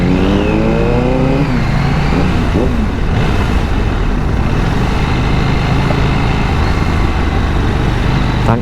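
A KTM 790 Duke motorcycle accelerating hard on the road, its engine note climbing steadily through the revs as a loud, continuous roar close to the mic, with constant wind and road noise underneath.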